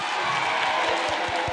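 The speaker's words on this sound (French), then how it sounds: "Applaudissez pour vous-même." Campaign rally crowd in Guinea clapping and cheering steadily throughout, a dense continuous wash of applause with no break.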